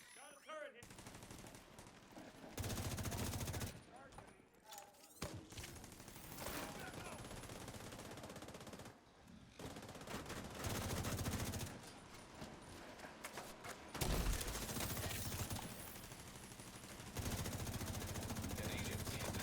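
Turret gunfire in the shooter game The Division 2: repeated bursts of rapid automatic shots in clustered volleys separated by short pauses, moderately loud, with no talk over it.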